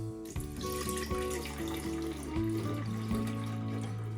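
Milk pours into a grinder jar in a continuous liquid trickle and gurgle with a rising, bubbling tone as the jar fills, close and moderately quiet, with no voices.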